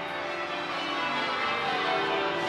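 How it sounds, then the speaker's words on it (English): Church bells peal after a wedding as the couple leaves the building, a dense, continuous wash of overlapping ringing tones that stays loud and steady throughout, with no voices heard. "The bells sounded a timeless, historic and grand accompaniment."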